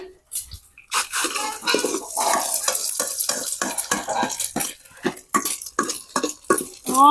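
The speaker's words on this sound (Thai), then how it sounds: "ตอนนี้กำลังทอดไข่ให้" Eggs frying in a pan in a home kitchen, with busy scraping and stirring clatter over a steady sizzle, close and fairly loud, while people talk on and off.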